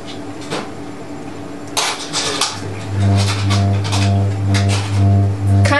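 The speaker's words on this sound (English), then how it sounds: "the squawk box, a device that produces 2 tones beating at 2 hertz" Squawk box sonic device sounding two tones that beat about twice per second, a droning low hum swelling and fading rhythmically, entering midway after some scattered clattering knocks.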